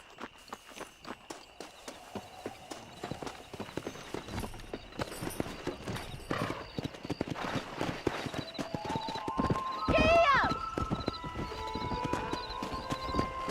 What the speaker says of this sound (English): I'll show you how we ride around these parts